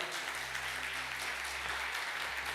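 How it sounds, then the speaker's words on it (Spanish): A church congregation claps steadily and fairly loudly through the whole stretch during a Sunday sermon, a dense even patter with no voices over it. "Dale fuerte ese aplauso al Señor."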